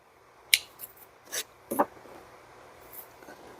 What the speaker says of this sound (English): And I'm just going to snip that off.